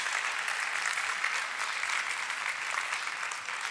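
Sustained audience applause at a university writer-in-residence event, welcoming author Gary Shteyngart to the stage: dense, steady clapping from a large crowd, loud and continuous throughout with a slight easing toward the end.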